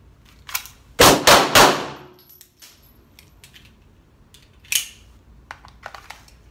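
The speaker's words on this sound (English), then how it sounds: "So I'm only gonna use these reactive targets that sway back and forth when I hit them" Gunshots strike reactive steel targets that sway when hit, giving a few loud sharp metallic clangs in quick succession, then another ringing hit and fainter smaller clinks as the targets settle, with no talking.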